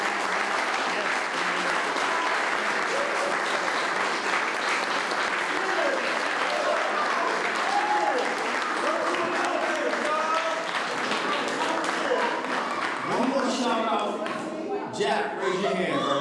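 Sustained applause from a crowd at a graduation ceremony, dense steady clapping throughout with a few cheers and murmuring voices rising near the end.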